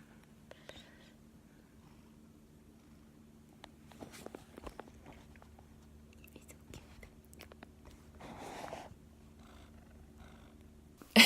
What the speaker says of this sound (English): This is my host family's cat.